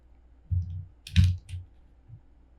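A mouse click on the save button in the AutoCAD quick access toolbar, heard as a few soft, close clicks spread over a couple of seconds in a quiet room.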